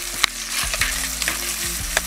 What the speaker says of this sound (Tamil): வெங்காயம் மூணுலாம் நல்லா வெந்துருச்சு.